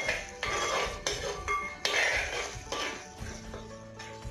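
A spoon scrapes and clinks rhythmically against a metal pan while lemon pickle gravy is mixed with sugar, close, fairly quiet strokes repeating about every half second.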